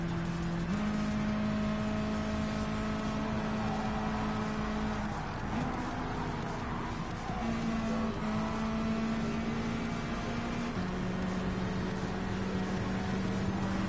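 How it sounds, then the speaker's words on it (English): Mazda Atenza race car with a turbo four-cylinder engine in a video game, a steady engine drone that shifts pitch now and then, constant and moderately quiet with no talk. "Right now I'm using a Mazda Atenza race car."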